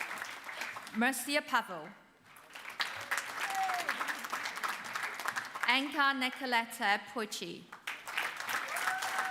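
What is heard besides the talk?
applause for graduates at a university graduation ceremony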